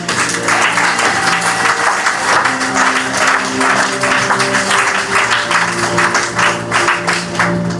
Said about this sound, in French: Acclamons et poussons l'église de joie